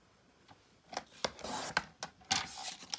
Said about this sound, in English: So I'm just trimming up the edges.